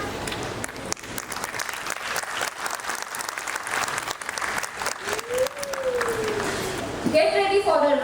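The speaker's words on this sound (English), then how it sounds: "Let's give a huge round of applause to our precious playgroup children." An audience at a school annual function gives sustained applause for the playgroup children, dense clapping throughout with crowd murmur and some music or tones entering near the end.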